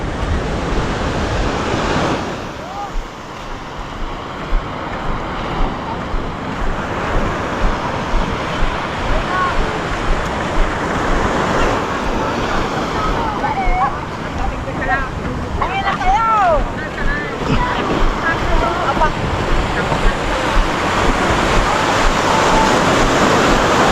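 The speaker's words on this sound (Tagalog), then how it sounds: "Laki ng alon ah." Big ocean waves roar and wash in loudly and continuously, with people talking over the surf.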